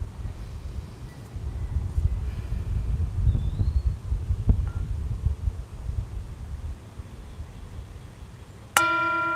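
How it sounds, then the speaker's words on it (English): A mindfulness bell is struck once near the end of a quiet outdoor service, ringing out clear and sustained after a stretch of wind and faint rustling. "And I'll invite the bell to sound."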